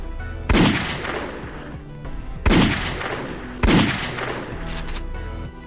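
Three loud gunshots from the Piggy video game, each a sharp boom with a decaying tail, evenly spaced and close, with no talking.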